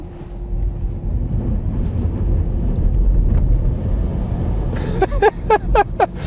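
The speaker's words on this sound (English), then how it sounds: "Yeah, even in core mode, the wheels are spinning when you floor it till 60 kilometers an hour." Inside a front-wheel-drive Mini Cooper E electric car on winter tires on a wet winter road, a steady rolling road roar accompanies hard acceleration with wheelspin, and sharp rhythmic squeaks appear near the end.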